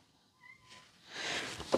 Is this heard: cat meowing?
yes